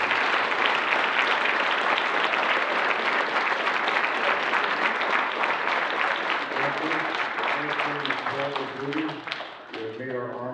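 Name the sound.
audience applause for veterans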